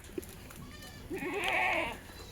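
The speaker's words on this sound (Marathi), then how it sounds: "आता ह्या आपल्या घरच्या शेळ्या आहेत" A single goat bleats once, a wavering cry lasting about a second, heard nearby against a quiet background.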